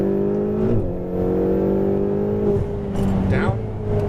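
A Lamborghini Huracan Performante accelerates on a race track in Las Vegas. Its engine note is loud and close, with the pitch rising and dipping through gear changes, and a voice talks over it.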